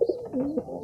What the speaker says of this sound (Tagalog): Pakita ko sa iyo mga kalapatids.